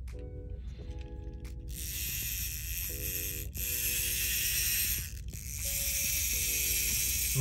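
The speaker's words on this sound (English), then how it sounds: "Moving the motor back and forth," A toy motor from a Starcom Shadow Bandit is moved back and forth by hand, making a faint whirring, ratcheting grind in several short stretches over a steady hiss, close by, with no talking.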